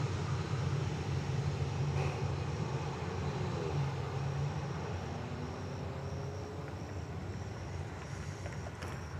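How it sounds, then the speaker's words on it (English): A Southwest Boeing 737-800 airliner heading out for takeoff on runway 31 left at Dallas Love Field at night, a steady broad jet engine roar holding loud throughout with a faint low tonal hum underneath. "That's your 737-800 going to Phoenix"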